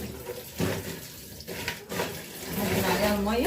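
Tap water running over raw crabs in a sink while they are washed: a steady close splash and gurgle that grows fuller toward the end, with some clattering of the shells.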